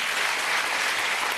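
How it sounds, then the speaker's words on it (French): A studio audience applauds the guest Hélène Gâteau, a veterinarian and TV presenter, on a French television show. The clapping is dense, steady and close, with no talk over it. "Je demande de l'applaudir."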